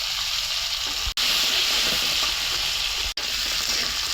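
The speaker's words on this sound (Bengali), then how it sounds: "ওই তেলের ভিতরে আলুটা একটু হালকা ভাইজে নিতে আছি।" Potatoes fry lightly in oil left over from frying fish, giving a loud, continuous hiss and sizzle close up, broken by two brief dropouts, with no talking.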